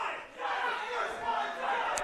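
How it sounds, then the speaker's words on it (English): A wrestling arena crowd boos a heel wrestler loudly and steadily, a dense roar of many voices swelling and dipping, with no commentary over it. "the crowd very loudly letting Mitch know what they think of him."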